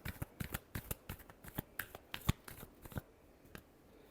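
Tarot cards being shuffled, a quick run of sharp riffling flicks and snaps in an uneven rhythm, close and fairly quiet, with no voices.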